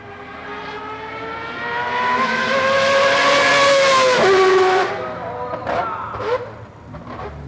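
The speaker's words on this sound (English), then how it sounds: "This time attack car sounds like an F1 car at Attack Scuba going down the straight" A three-rotor Mazda RX-7 time attack car screams down a straight at a rotary-only event, a high, rising multi-harmonic engine wail that peaks loudly, drops as it passes, then fades into fainter revving.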